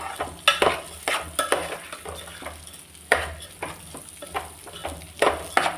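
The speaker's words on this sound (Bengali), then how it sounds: "এই ঘিয়ের ওপর দিয়ে একটু আর কি নেড়ে নেবো, চালটা একটু ভেজে নেবো।" Soaked rice being stirred and fried in ghee for jeera rice, with repeated spatula scrapes and clinks against the pan in an uneven rhythm over a low sizzle, close and fairly loud.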